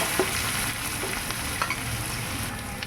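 Onion frying in oil with cumin and black cumin, a continuous sizzle with a few light stirring scrapes, steady and close with no voices.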